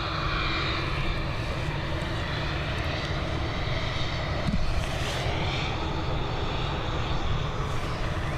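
A Lufthansa Airbus A321 at Dublin Airport preparing for departure, its jet engines producing a steady, loud broadband roar with a whining tone, continuous throughout and heard from fairly close on the apron.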